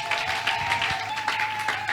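A church congregation applauds together in a sustained wash of clapping, with a steady tone faintly ringing through it.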